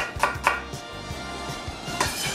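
Red onions being sliced with a sharp knife on a cutting board, a series of crisp close knife taps and chops at an uneven rhythm, with no talk.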